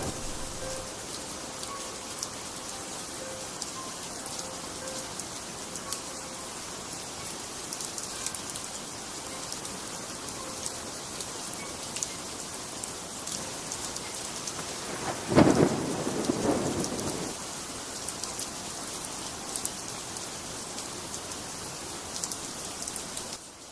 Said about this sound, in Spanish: mientras la lluvia golpeaba las ventanas de la casa